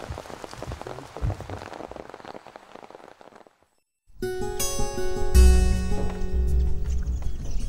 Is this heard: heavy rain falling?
yes